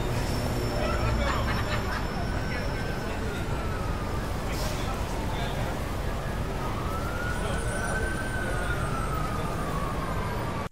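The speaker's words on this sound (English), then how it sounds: "I added in a car horn and a siren towards the end" A police-style emergency siren wails in slow rising and falling sweeps behind a dense, steady background ambience in a scene mix, heard at a distance throughout.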